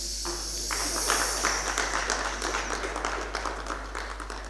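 Audience applause welcoming a speaker to the stage at a spring lecture session, a dense patter of many hands clapping that swells and then fades, with a steady low hum underneath.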